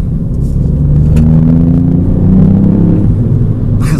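A 2018 Ford Fiesta ST engine drones deep and throaty close by, its rumble swelling slightly as the revs rise and fall, with no voices.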